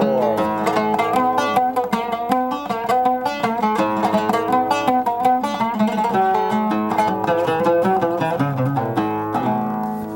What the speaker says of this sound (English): And typical 4/4 would be like this.